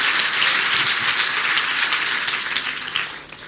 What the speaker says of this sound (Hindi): Give a good clap for the Lord.